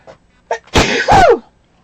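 One close, loud sneeze comes after a couple of short sharp intakes of breath, a brief explosive burst that trails off into quiet.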